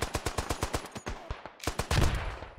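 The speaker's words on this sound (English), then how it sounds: "Getting shot at." Rapid bursts of gunfire from the World War I shooter game Beyond the Wire, sharp repeated shots in a fast machine-gun rhythm, loud and close, with a heavier blast near the end and no talk over it.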